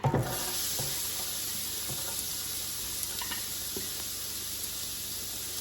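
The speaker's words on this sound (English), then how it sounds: "I'm going to put in a little bit of oil, not going crazy, and then I'm going to saute off my onion" Chopped onion sautés in a little oil in a hot fry pan for a Mexican taco bowl, giving a steady, close sizzle throughout with a few faint clicks and stirring taps and no talking.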